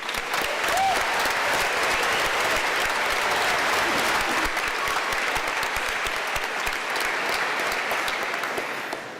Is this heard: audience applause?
yes